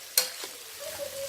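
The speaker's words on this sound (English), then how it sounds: "So we're gonna saute the vegetable, the sausage, the Italian sausage together." Vegetables, smoked beef and Italian sausage sautéed together in a pan, opening with a sharp clack of a utensil against the pan, then a soft, steady sizzle close by with a faint tonal ring near the end.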